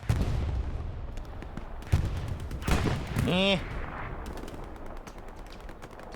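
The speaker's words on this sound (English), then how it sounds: "MG is killing everybody." Machine gun fire in the World War II shooter Hell Let Loose, heard as scattered distant gunshots with a louder burst and a rising whine, faint and mixed with other battlefield noise while a voice talks over it.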